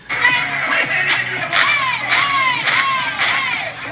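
A loud crowd cheers and shouts in repeated swelling bursts, voices whooping over a constant noisy roar, with no clear speech.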